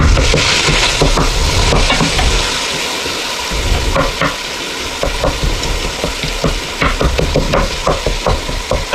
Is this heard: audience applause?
no